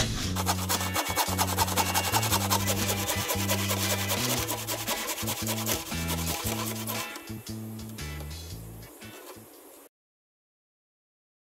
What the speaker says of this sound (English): I then used a handsaw. It actually works pretty good.